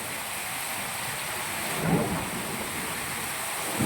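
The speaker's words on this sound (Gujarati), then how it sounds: "વીજળીના કળાકા ને ભડાકા" Heavy monsoon rain in Gujarat pours steadily with a low, brief rumble of thunder swelling in the middle, a dense, even wash of sound throughout.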